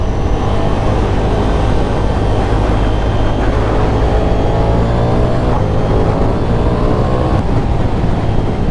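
A Ducati Diavel V4 motorcycle engine drones steadily and loudly through a ride, a continuous rumble with rising and falling tones as the revs shift through the bends.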